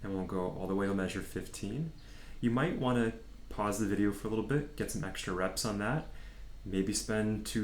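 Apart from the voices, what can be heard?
None of the usual background noises is heard.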